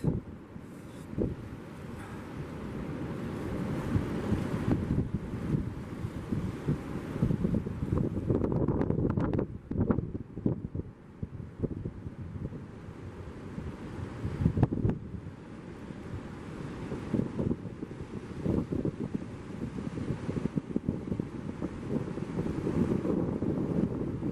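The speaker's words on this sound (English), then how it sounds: "This is where the estuary mouth drains into the ocean at the moment." Ocean surf where the St Lucia estuary mouth drains into the sea, a steady broadband rush of waves with heavy wind buffeting the microphone, surging and easing throughout with no voices.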